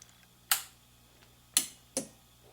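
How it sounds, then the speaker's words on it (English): Relay in a military wire recorder clicking as the power amplifier switches on, heard as three sharp, close mechanical clicks over a quiet low hum. "As you can hear, the relay just kicked in to power up the amplifier."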